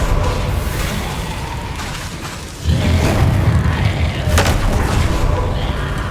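The Incendio fire spell is cast in Hogwarts Legacy, a sudden whooshing burst of flame that swells into a sustained rumbling roar amid game combat noise.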